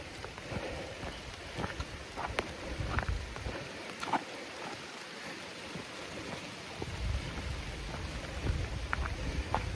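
Rain falls on the Piney Cove Trail in Panther Creek State Park, a soft steady patter with scattered sharper drops on leaves and ground, faint and continuous with no voices.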